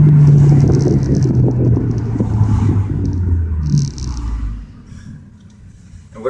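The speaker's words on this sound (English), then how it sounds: "This is how loud it is when you downshift at high rev." A Ford Focus ST engine downshifts at high revs, heard from inside the cabin as a loud low rumble that rises and then falls away, with wind and road noise and some rustling.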